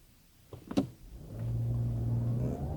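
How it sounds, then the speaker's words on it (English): A 2020 Audi A7 luxury hatchback sedan pulls away from a dead stop, a few faint clicks giving way to a low, steady engine drone that rises slightly, heard quietly from inside. "Now I do want to try accelerating again from a dead stop, and let's see if it actually wheel hops a little bit."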